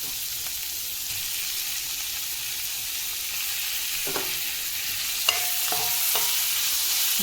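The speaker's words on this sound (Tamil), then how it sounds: "நல்லா வதக்கிக்கோங்க." Onions and tomatoes sauté in a pan for egg kothu chappathi with a steady, even sizzle, broken by a few soft scraping stirs toward the end.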